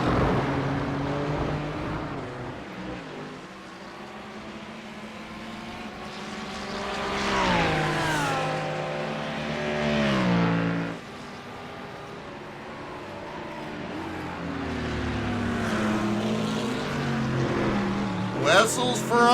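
Racing cars in a GT3 sim race at Red Bull Ring, including a Ferrari and a Lamborghini, roar past with rising and falling engine pitch and gear shifts, a continuous loud multi-car drone.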